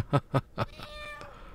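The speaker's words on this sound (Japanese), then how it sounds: "おお猫ですね。 ペロペロしてますね。" A cat meows three times in quick succession in the video game Twilight Syndrome, short close mews followed by a faint tonal game sound.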